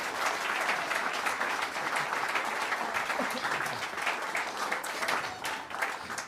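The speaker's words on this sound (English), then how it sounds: "I would love it if you would give these guys a big round of applause" A small concert crowd at Caffe Lena gives sustained applause, steady and fairly close, with scattered individual claps standing out throughout.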